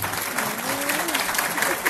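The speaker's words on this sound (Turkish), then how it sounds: "Kocaman alkışlarınız lütfen" Crowd applause at a Yörük festival in Antalya, a dense, loud burst of many hands clapping close by, with a faint voice briefly audible underneath.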